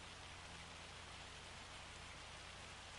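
Steady rain falls in the Farming Simulator 25 video game, a continuous hiss of drops on surfaces that stays even and fairly faint throughout, with no voices.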